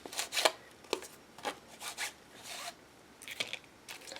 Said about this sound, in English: hit the edges of the page with the timber brown, and then just a quick little swipe over the card, the page